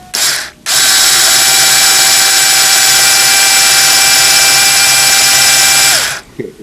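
A string is loosened on a Floyd Rose style guitar bridge, a loud sustained mechanical whir with a ringing tone running for about five seconds after a short burst, then cutting off.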